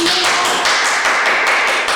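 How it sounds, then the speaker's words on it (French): Hands clap in steady applause on a stage, a dense, close run of sharp claps with a regular rhythm and no voices over it. "Applaudissez, Jacques."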